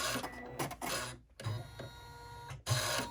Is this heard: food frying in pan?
no